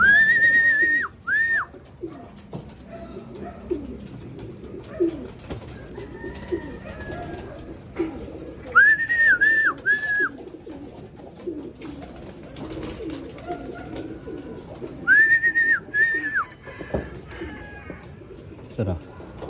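Racing pigeons arriving at a loft in Urdaneta, with soft cooing and wing flutters amid a few loud whistle bursts that recur three times, and someone talking over the scene.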